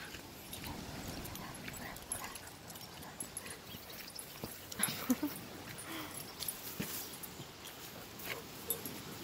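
A Tamaskan dog whimpers and yips on a walk outdoors, with soft, intermittent whines and small vocal bursts coming and going over steady ambient noise.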